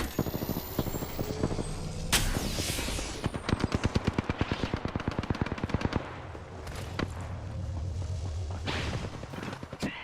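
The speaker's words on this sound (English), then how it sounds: "Listen up, I'm getting shot at." Rapid automatic gunfire from the video game Apex Legends, bursts of dense shots with weapon whooshes and reload clatter, loud and close throughout.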